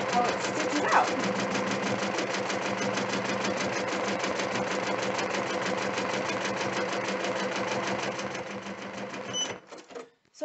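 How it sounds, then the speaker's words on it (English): An embroidery sewing machine runs continuously at around 400 stitches a minute, a fast, even mechanical chatter heard up close for about nine seconds before stopping abruptly. "So right now it's stitching about 400 stitches a minute."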